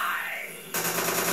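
Automatic gunfire erupts in Metal Gear Solid 4, a sudden loud rattling burst breaking in after a quieter whooshing ambience and continuing steadily to the end.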